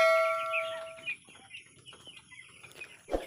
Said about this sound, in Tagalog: Ngayon po ang day 24 ng ating mga alagang chicken broiler.